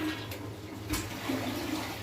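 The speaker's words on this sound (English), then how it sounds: "flush it." A toilet flushes right after a cleaning, a steady close rush of water that runs for about two seconds without any talking.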